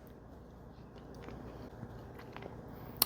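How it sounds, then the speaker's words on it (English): Quiet close-up chewing of a mouthful of creamy creamed spinach, soft wet bites and mastication with a few faint crunches, ending in a sharp small click. "Let's give our cream spinach a little taste."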